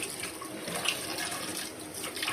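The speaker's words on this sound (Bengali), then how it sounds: "এই যে মাছের ডিমগুলো পরিষ্কার করে নিচ্ছি" Fish roe rinsed under a running tap, a steady close wash of flowing water with faint splashes and no voices.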